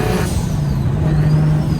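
A DocRace single-turbo car's engine and exhaust drone loudly while driving, a steady close rumble with a rising turbo whine layered on top.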